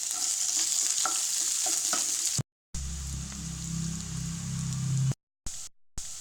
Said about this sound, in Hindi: एकटा लोहिया में 3 से 4 चम्मच तोरी के तेल गरम भेला के बाद मेथी लाल भेला के बाद लहसुन,